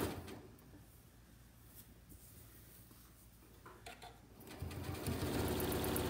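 A sewing machine stitches a very narrow zigzag through quilt lines, its quiet rapid needle patter running steadily throughout and growing louder and denser toward the end.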